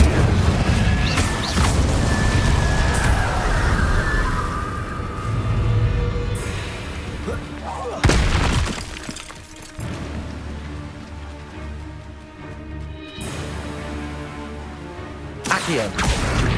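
Confringo fire spells in Hogwarts Legacy burst into crashing explosions, with rumbling booms, debris and crackling ringing tails, loud and layered with game music and effects.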